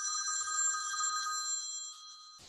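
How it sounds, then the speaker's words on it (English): A telephone rings steadily during a lecture on the Industrial Revolution, its bright repeating tone continuous and fairly loud, then dropping slightly before cutting off at the end; no talking. "Sorry, I have another phone call."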